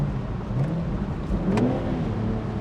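The inline-six engine of a BMW Z4 M40i with a manual gearbox hums and revs steadily, a continuous rough mechanical roar that rises and swells slightly, heard from inside or close by.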